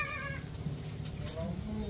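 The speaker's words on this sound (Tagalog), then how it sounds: "Ito yung mga kambing natin, naghihintay pa." Goats waiting on a farm bleat repeatedly in wavering cries, fairly close, under a steady murmur of people talking.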